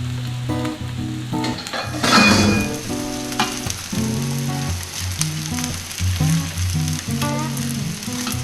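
Steak sizzles steadily in a hot pan, a loud continuous fry with occasional crackles and a brief louder burst, while music plays prominently over it.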